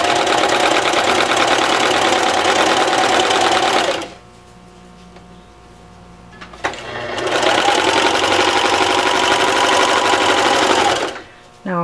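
A sewing machine zigzag stitching fold-over elastic on a baby bib-apron runs in two loud, steady bursts of rapid mechanical whirring, separated by a quiet pause, then a brief restart at the end.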